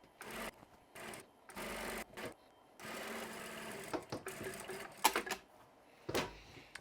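Juki sewing machine stitching quilt fabric, running in several bursts of rapid mechanical whirring separated by short pauses, close and fairly quiet, with no talking.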